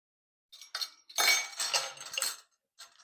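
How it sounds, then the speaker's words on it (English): A spoon stirring vanilla extract into eggnog in a bowl, giving a few irregular clinks and scrapes against the bowl in short bursts with brief pauses, close by. "Give that a nice stir in there."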